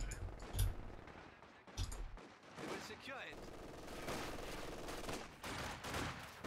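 Gunfire in the Company of Heroes 2 strategy game, with bursts of small-arms and machine-gun fire crackling over a dense battle mix, moderately loud and continuous for several seconds.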